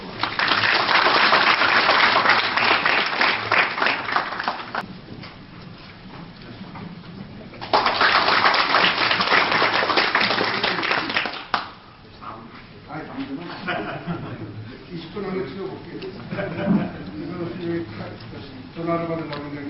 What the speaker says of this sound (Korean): 큰 박수로 맞이해 주시고.